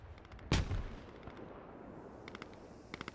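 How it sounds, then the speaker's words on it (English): A grenade detonates with one loud, heavy boom in the SquadOps video game, rumbling off into a lingering tail, followed by faint sharp distant shots. "Got more nades going in."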